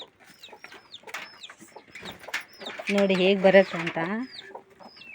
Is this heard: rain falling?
no